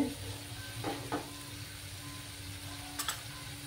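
Spice paste frying in oil for a tangra fish curry: a steady sizzle with a few brief scraping stirs of the spoon against the pan, close and moderately loud, no voices.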